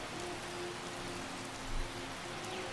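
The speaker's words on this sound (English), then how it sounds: "Oh god, it's always raining here," Rain falls in the video game Skyrim, a soft, steady patter on surfaces, quiet and continuous over a low background hum, with one brief muffled thump partway through.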